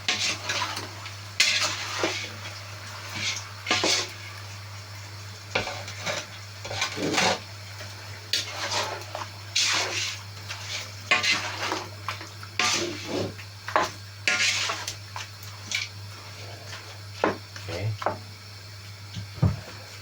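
Pork adobo with long bay leaves being stirred in a pot, a spoon scraping and clinking against the metal in irregular bursts over a steady low hum, with occasional voices.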